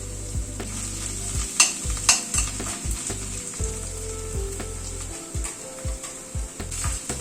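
Ginger paste, garlic, onion and a slit green chili are stirred in a frying pan over a constant sizzle, with repeated scraping and clattering strokes of the spatula against the pan.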